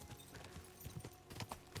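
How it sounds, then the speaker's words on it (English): Horse hooves clip-clop steadily at a riding pace in the medieval game Kingdom Come Deliverance 2, with rhythmic thuds close by over a dense background bed. "this horse is much better to control than Pebbles."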